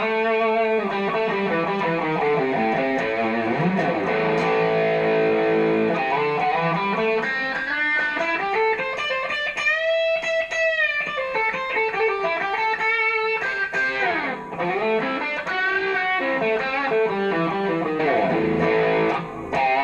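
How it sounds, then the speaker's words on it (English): Electric guitar, a Fender Squier Bullet HSS on its humbucker with overdrive, sustained chords and bending lead notes ringing out continuously at steady volume, no voices. "It's got a lot of nice sound coming out of that humbucker."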